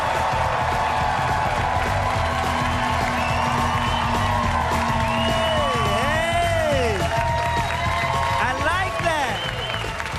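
Audience applause and cheering for comedian Guy Torry, a continuous loud crowd roar with clapping, whoops and rising whistles, voices mixed in throughout.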